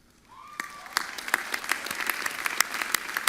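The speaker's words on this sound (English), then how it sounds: "please hold your applause until the names of all the candidates have been read" Applause from the audience at Bentley University's class of 2023 undergraduate commencement, starting softly and swelling into steady, dense clapping from a large crowd.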